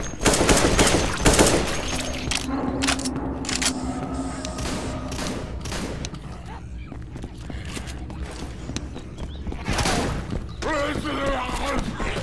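Rapid gunfire from weapons in the zombie shooter Left 4 Dead 2, dense bursts of automatic fire and single shots cracking across the whole stretch, with footsteps and a voice speaking briefly over the fight.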